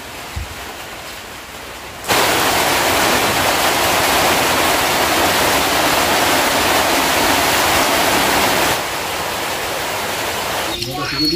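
Steady heavy rain pours down outside a house veranda, a dense broadband hiss that starts abruptly, holds loud and even, then eases slightly near the end.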